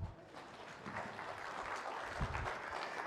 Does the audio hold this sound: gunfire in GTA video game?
no